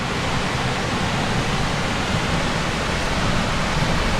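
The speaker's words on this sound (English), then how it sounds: "we need to take a look at the waterfall first" A waterfall in Norway roars as a steady, loud, broadband rush of falling water that stays constant throughout, with no voices heard.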